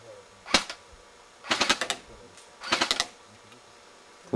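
A toy gun fires in short clicking bursts: one single snap, then two rapid rattling volleys close by, with people talking around them.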